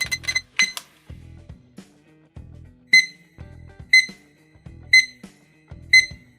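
A TS-6211 thermometer-hygrometer clock plays its standard alarm melody, bright electronic chimes repeating roughly once a second over a soft low hum, loud and close.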